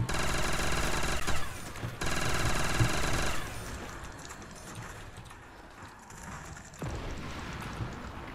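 An upgraded Type 100 submachine gun fires in a custom Call of Duty zombies map, rapid rattling bursts, loud and close, with a brief gap between bursts and quieter mechanical noise after.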